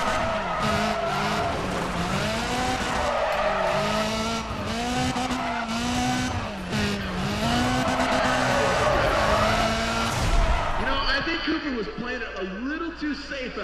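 Tires squeal and skid continuously under a revving race engine during a clutch-kick drift in Need for Speed ProStreet, loud and close, with someone talking over the game audio.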